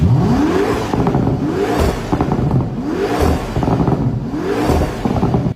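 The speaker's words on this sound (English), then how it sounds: "the new Toyota GR-GT, and that makes me extremely ecstatic to hear that it actually can be heard. It has a twin-turbo hot V8 setup," The twin-turbo V8 of a Toyota GR-GT revs hard in four rising sweeps, each climbing sharply then dropping back, loud and close with a raspy, layered tone and no talking.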